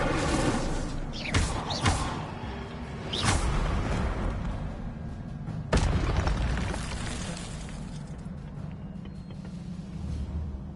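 Spells are cast in the Hogwarts Legacy video game, including a fire spell: several sharp whooshing blasts and booming bursts, loud and close, then a fading low rumble, with no talking.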